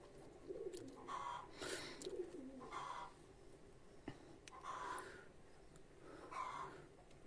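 Chinese gull breed pigeon cooing in soft repeated phrases, several coos spaced about a second apart, close and fairly quiet over a steady background hiss.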